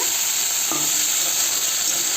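Steady sizzling of fried fish in masala in a hot pan, with a brief scrape of stirring partway through; no voices.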